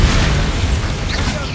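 Bombarda blasting spell going off in Hogwarts Legacy, a loud low booming burst with rumble that fills the clip, with faint game voice sounds mixed in.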